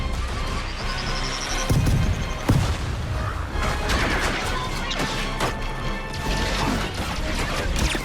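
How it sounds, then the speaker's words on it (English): Repeated crashing booms and sharp impacts from explosions in the game Star Wars Outlaws, loud and dense, with mechanical clatter between blasts. "Yeah, the explosion effects need some work badly."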